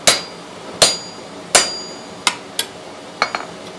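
Hammer blows on hot metal at an anvil during forging, about eight sharp ringing strikes in uneven rhythm, the first few spaced and heavier, the last ones quicker and lighter, close and clear.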